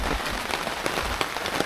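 Rain pours down outdoors at a tree house build site, a constant broad patter on surfaces with occasional sharper drops tapping close by.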